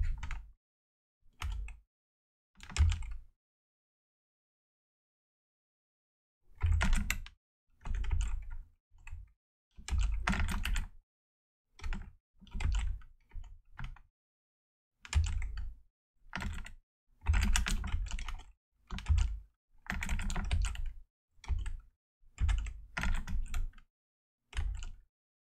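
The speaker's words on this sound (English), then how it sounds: "So I will speed type that a little bit." Rapid typing on a computer keyboard while building a Go web template, heard as quick bursts of clicky keystrokes with short pauses between runs, close and clear, with no talking.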